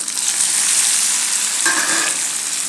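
Sorghum flour and fenugreek dumplings sauté in oil in a pan on a stove at medium heat, giving a steady close sizzle and crackle with a brief stirring scrape partway through, no voices.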